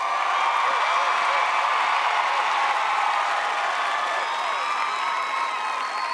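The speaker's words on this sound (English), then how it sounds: "give them the biggest applause you possibly have" Graduation crowd at a 2022 school commencement ceremony roars with loud, sustained applause and cheering, dense clapping mixed with whoops and shouts filling the space continuously without a break.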